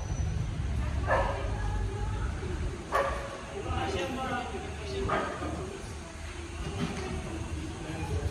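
Several sharp dog barks ring out at intervals over a steady low rumble of engine or vehicle noise, with people talking in the background.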